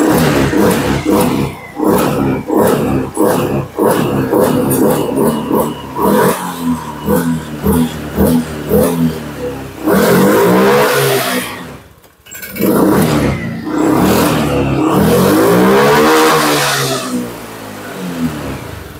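A fuel-injected motorcycle engine is blipped repeatedly by the throttle, each rev rising and falling in quick bursts before longer, higher roars, loud and close.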